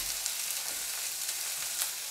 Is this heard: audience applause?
no